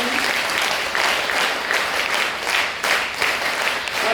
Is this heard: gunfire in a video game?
no